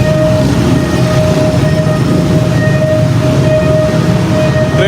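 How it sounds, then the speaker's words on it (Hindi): A train pulls into an airport rail station in Thailand, a steady loud rumble with a sustained tonal whine running through the whole stretch, no voices. "लकीली ट्रेन भी आ गई।"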